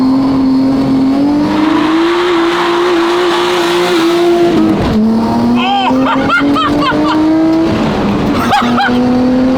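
A rebuilt first car launches and accelerates hard, its engine note climbing through gear changes with tire noise, loud and close while excited voices shout over it.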